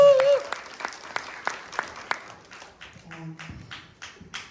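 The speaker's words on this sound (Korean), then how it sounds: "큰 박수 부탁드립니다." An audience at a documentary film premiere screening applauds: a burst of distinct claps that turns into sparser, irregular clapping and thins out toward the end.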